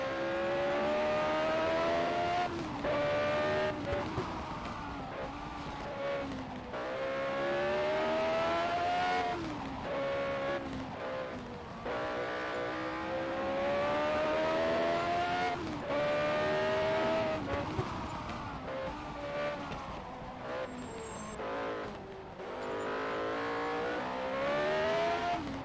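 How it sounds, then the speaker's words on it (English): A race car engine revs and climbs through the gears at full throttle through corners, a continuous loud whine rising and easing with throttle lifts, heard from onboard for the whole stretch. "You can hear how careful Jon has to be putting on the throttle in a few of these corners"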